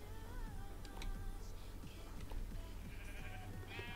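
Minecraft sheep bleat a few times over steady game background sounds and ticking, mid-distance and fairly clear, with no talking.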